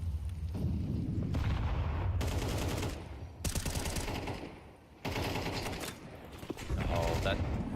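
Counter-Strike match play at the StarLadder Budapest Major, with bursts of gunfire and a grenade, sharp clattering shots and blasts cutting in and out among game noise at loud, uneven levels.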